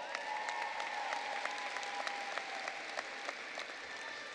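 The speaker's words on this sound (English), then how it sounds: "Let's give Dr. Smith another round of applause." Applause from a graduation audience at a Hampton High School ceremony, a broad, even roar of many hands clapping with a few sharp individual claps popping through, and a steady tone sustained underneath.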